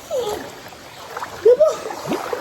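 A child splashes and plays in shallow stream water, irregular close splashes and sloshes with a brief louder splash near the middle, along with faint vocal sounds.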